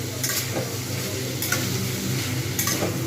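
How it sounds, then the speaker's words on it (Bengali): Potatoes and ridge gourd frying in a pan with a constant sizzle, with occasional clinks of a utensil against the pan. "দুটো মিনিট ছেড়ে দিয়েছিলাম যাতে আলু ঝিঙেটা ভালোভাবে ভাজা হয়ে যায়"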